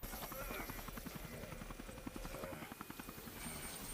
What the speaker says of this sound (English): An escape chopper has arrived